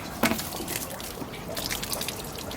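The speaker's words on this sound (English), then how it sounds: "So I'm just going to empty the water now, just to empty it out." Water is emptied out of a wetland filter box, splashing and trickling in irregular drips and pours close by, moderately quiet and without talk.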